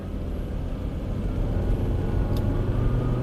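A Volvo car with fuel trim issues pulls away under acceleration, heard from inside as a steady, loud low rumble of engine and road noise that builds slightly over a few seconds, with no talk.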